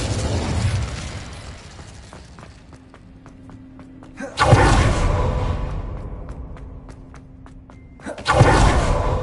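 Incendio fire spells cast in Hogwarts Legacy burst out twice as loud whooshing blasts a few seconds apart, each followed by a crackling fiery tail, with quieter ticking effects in between.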